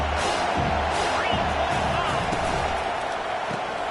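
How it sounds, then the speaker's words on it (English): A stadium crowd roars and cheers in the Madden 22 football video game, a dense, sustained wash of noise with a commentator's voice talking over it. "This crowd knows when to bring it."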